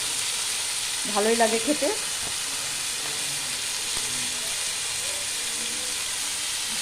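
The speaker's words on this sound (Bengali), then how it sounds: "এবার আমি একটু নাড়াচাড়া করে এটা হালকা আঁচে ভাজা ভাজা করে নেব" Bottle gourd peel fries in a pan with potato, onion, chilli, salt and turmeric, giving a faint, steady sizzle and hiss throughout, while someone speaks briefly near the start.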